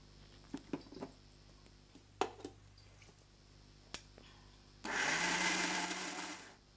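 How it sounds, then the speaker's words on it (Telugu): A mixer grinder whirs loudly for about two seconds as it grinds green chillies, following a few scattered clicks and taps of the jar being set up. "దీంట్లో జస్ట్ పచ్చిమిర్చి అండి వేసేసి గ్రైండ్ చేసి"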